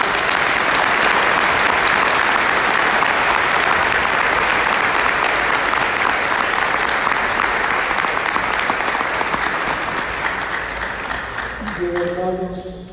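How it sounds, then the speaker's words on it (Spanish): A large congregation at an international Catholic congress gives long, sustained applause, loud and continuous, easing off near the end as a voice begins to speak. "Un aplauso para Jesús Eucaristía."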